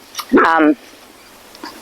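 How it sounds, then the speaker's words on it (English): A single loud dog bark rings out close by, short and sharp, followed by quiet room sound. "sorry, excuse my dog barking"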